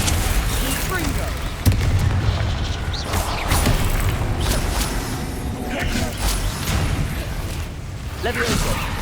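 Confringo fire-spell blasts in the Hogwarts Legacy video game, repeated booming bursts and crackling impacts over a dense battle mix of clanks and creaks, with a voice shouting spell names throughout.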